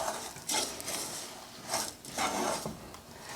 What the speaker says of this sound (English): I'm going to go ahead and add all of the crumbs here into the saucepan and mix up till they're thoroughly combined